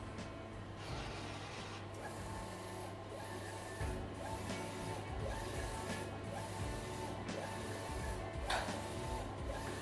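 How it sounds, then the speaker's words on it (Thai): A DTF printer runs a long 20-metre print job, its steady mechanical hum and whir constant throughout with a repeating rhythmic shuttle pattern, close and loud, no talking. "เดี๋ยวเรามาพิมพ์จริงนะครับ ผมทำไฟล์ ยาวไว้ 20 เมตรนะครับ"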